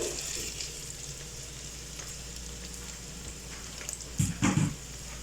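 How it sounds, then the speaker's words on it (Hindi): Bitter gourd, karela, fries in warm oil in a deep pot with a constant soft sizzle, while a few louder bursts of stirring or scraping come near the end. "हम इनको तकरीबन 15-20 मिनट के लिए इसमें फ्राई करेंगे"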